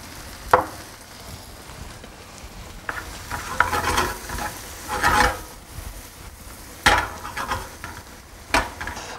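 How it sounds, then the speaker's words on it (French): Mushrooms and chopped shallots sauté in a pan, with crackling sizzle and bursts of rasping scraping as they are stirred every second or so, close and fairly loud. "Je vais laisser cuire donc mes champignons 1 à 12 minutes."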